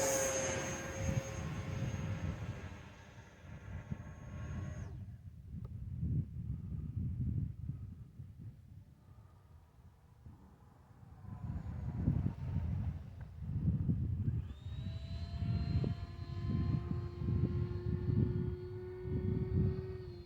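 An Eflite Viper 70mm EDF RC jet flies past at an RC airfield in cold, rainy weather, its ducted fan whine rising and falling with distance and fading in and out over wind noise.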